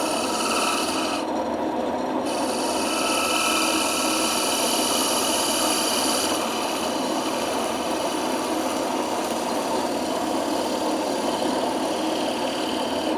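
A spinning top being cut on a wood lathe, with a steady, loud, rasping hiss of the tool against the wood and the constant hum of the machine, close and unbroken throughout.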